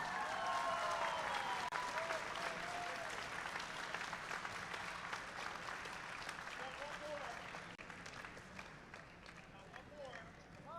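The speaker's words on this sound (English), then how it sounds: "a huge round of applause" A large crowd applauds steadily at a FIRST robotics district event in Albany, a dense wash of clapping that holds strong and slowly tapers, with some voices mixed in.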